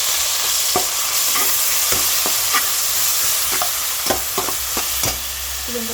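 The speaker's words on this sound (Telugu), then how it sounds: "ఇది హైలోనే పెట్టుకుని వేయించుకోవాలండి." Spring onions stir-frying over high heat in a pan for veg Hakka noodles: a steady, close sizzle with sharp scraping and tapping spatula strokes breaking through at irregular intervals.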